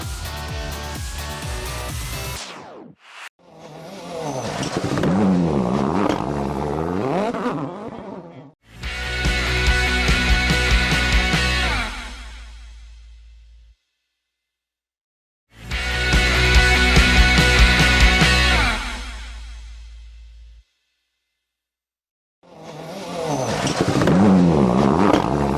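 Rally cars blast past on a stage at Donington, engines revving hard in several loud bursts separated by brief quiet gaps, each pass rising and fading with gear changes.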